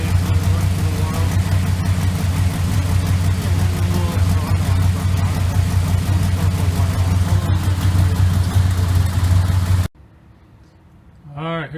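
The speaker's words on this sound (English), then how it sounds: "Finally got it up, started. Hopefully got enough gas in the tank today to let it run for a little while." A 1968 Chrysler 300 engine idles steadily with a loud, deep low rumble for about ten seconds, then cuts off abruptly, leaving a quiet stretch with faint background noise.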